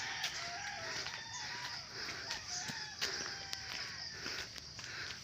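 Chickens on a rural hillside farm: repeated crowing and clucking from several birds, a mix of near and farther calls over a soft outdoor background with occasional rustling footsteps.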